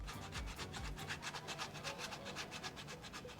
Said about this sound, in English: 5 minutes of intense sanding, and here is what it looks like